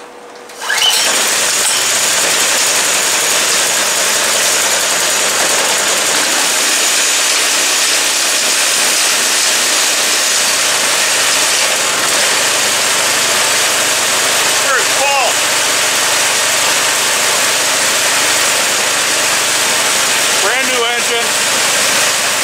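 A Predator 212cc gasoline engine on a snow blower catches on the first pull and keeps running loudly at a steady, rough idle for the rest of the clip.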